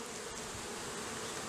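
Honeybees shaken in a jar with powdered sugar for a varroa mite roll buzz in a dense, continuous, muffled drone, fairly quiet and close.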